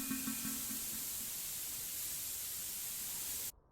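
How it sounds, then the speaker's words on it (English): A steady hiss of spray is aimed at a car's catalytic converter in Car Dealer Simulator. The loud, continuous spray runs for about three and a half seconds and then cuts off abruptly. "give it a little spray"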